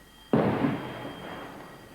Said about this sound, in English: they found a suspect package and made the first of several controlled explosions.